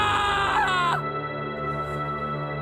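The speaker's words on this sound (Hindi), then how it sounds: "राकेश जोर से चिल्लाया और बेहोश हो गया।" A man screams loudly in an animated horror story, a shrill wavering cry lasting about a second, then a sustained eerie tone carries on alone.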